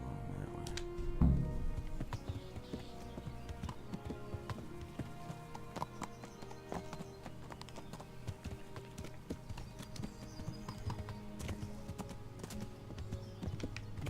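In the medieval Kingdom Come: Deliverance game, horse hooves clip-clop at a steady pace beneath a game soundscape, fairly quiet, with a brief thump early on and occasional talk.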